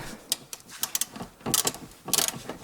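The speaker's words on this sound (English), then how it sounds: "There's 10mm bolt what I need to next open. Okay, and there is my 10mm socket." A socket wrench ratchets and clicks in short bursts while a 10mm socket works a bolt loose on a 1995 Toyota Corolla, near the fuel tank cap cover. The bursts are close and come in uneven runs with brief pauses.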